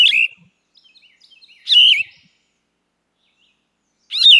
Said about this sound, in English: So another one that we have is the yellow-throated vireo.